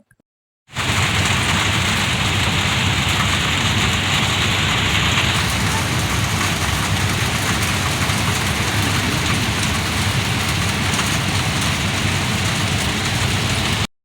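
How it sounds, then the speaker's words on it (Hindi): Heavy rain pours steadily after a brief silent start, a dense, loud, continuous hiss of water falling on surfaces. "बारिश की आवाज़ आप लोग खुद ही सुन लें"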